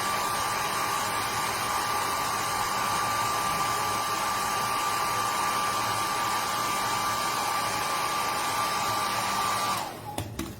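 A hair dryer drying paint on a flower painting runs as a loud, steady, close whooshing hum with a constant whine, then clicks off just before the end.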